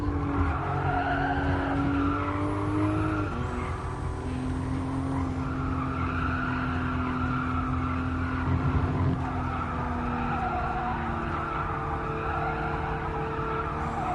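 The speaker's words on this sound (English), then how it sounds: "Man, this thing makes a lot of tire noise." Continuous tire squeal and skidding from a GR Supra race car at Fuji in GT Sport, layered over a steady, loud engine drone that holds for the whole stretch with shifting pitch, with no talking.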